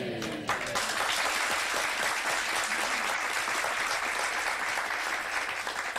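Audience applause: a dense, sustained wash of many hands clapping at a steady level throughout, with no talk over it.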